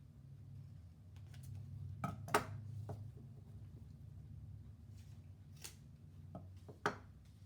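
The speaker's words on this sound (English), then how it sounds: "So I'll take the scissors and cut out the 2 ears" Scissors snip paper ears out for a craft project with a handful of crisp, close cuts spaced irregularly across a quiet room. A low background hum sits underneath.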